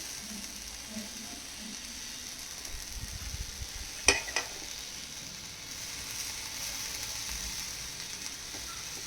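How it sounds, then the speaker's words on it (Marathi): Chival wild greens dry-roasting in a pan without oil, a faint, steady hiss with soft rustling as the leaves move and one sharp metallic clink midway. "अगोदर तेल नाही टाकायचं ह्या भाजीला. अगोदर अशी थोडी भाजून घ्यायची."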